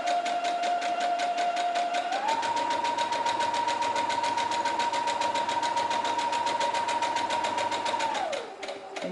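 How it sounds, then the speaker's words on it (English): Sewing machine stitching fabric face mask pieces in a fast, continuous mechanical whir with a steady rhythmic chatter, running nonstop close up before slowing at the end. "You just sew them assembly line like this."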